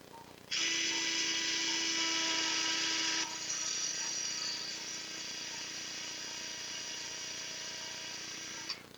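A high-pitched surgical drill whines steadily for several seconds as it bores into bone during shoulder surgery, its tone shifting slightly partway through, then stops.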